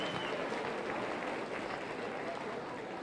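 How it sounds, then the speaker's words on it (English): Crowd applause at a youth fair market hog show, an even wash of clapping held at moderate distance throughout, with a hint of voices in the arena. "Let's give him a big round of applause."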